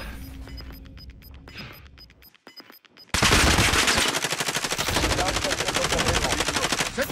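Warzone gunfire bursts out suddenly, loud rapid automatic fire with dense rattling shots and crackling impacts after a quieter stretch of scattered game sounds.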